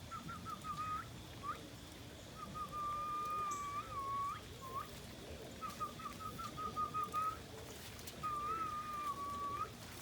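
A person whistles to call birds, giving a string of short, clear whistled notes with gaps between them. Faint outdoor background noise and soft bird sounds sit underneath.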